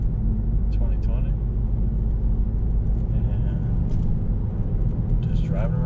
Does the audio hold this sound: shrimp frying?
no